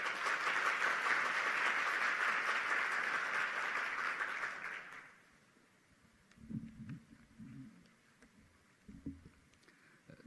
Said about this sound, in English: Please give him a big hand.